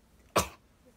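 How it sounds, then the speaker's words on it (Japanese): One short, sharp burst of a sneeze from a young woman in a quiet room, close by and brief, with silence on either side. "くしゃみが出そう。"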